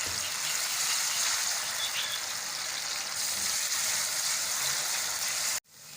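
Onions frying in a pan with garlic-ginger paste just added give a steady, even sizzle close by, broad and continuous, stopping abruptly near the end.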